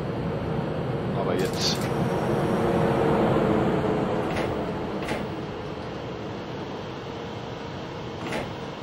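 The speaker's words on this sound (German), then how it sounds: "Da kommt auch schon der Zug" An ICE 1 high-speed train rumbles steadily in the Train Simulator game, a continuous low mechanical drone with a few brief clicks and sharp high-pitched hisses layered on top.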